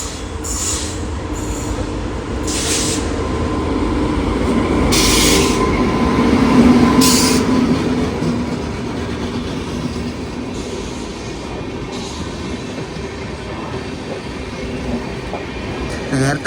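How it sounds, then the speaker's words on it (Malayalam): The Venad Express rumbles past at close range, overtaking a stationary Sabarimala special, with clattering wheels, rising and falling roar and intermittent high squeals from the rails. "ആദ്യം നമ്മളെ ഓവർടേക്ക് അടിക്കാൻ പോകുന്നത് വേണാട് എക്സ്പ്രസ് ആണ്."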